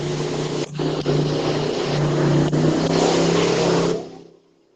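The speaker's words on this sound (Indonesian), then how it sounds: "Siapa itu yang suara sepeda motor?" A motorcycle engine revs loudly and close by during an online lecture, a droning roar that surges and dips over several seconds with brief breaks before it fades out.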